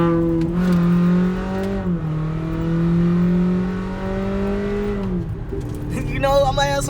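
A 2017 Toyota Corolla with a muffler delete accelerates with a loud, raspy drone, holding its engine note steady before downshifting with a blip of revs near the end.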